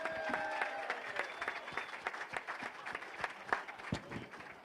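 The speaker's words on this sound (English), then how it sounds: "Let's give them a round of applause" Crowd applause at an evening tailgate for the UT vs Vanderbilt game, with sharp individual claps standing out from a steady clapping wash, moderately loud and heard alone.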